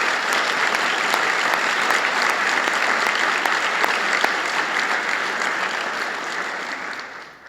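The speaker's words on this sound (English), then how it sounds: "Let's give her a round of applause as well." Steady, loud clapping from a large crowd at Ohio University's State of the University Address, sustained throughout before tapering off at the very end.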